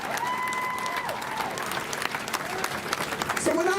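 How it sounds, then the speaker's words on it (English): A crowd at a George Floyd protest rally applauds an activist, with dense clapping and scattered cheers under voices and tonal sounds, loud and close throughout. "So y'all give her a round of applause"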